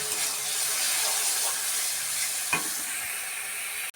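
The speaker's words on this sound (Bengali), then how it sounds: "লঙ্কা গুঁড়ো পরিমাণ মতো, হলুদ গুঁড়ো পরিমাণ মতো, এগুলো দিয়ে আমি আবার একটু কষিয়ে নেব।" Chicken sautéing in a pan with chili powder and turmeric gives a steady, close sizzle and hiss, broken by a few scraping stirs, with no voices.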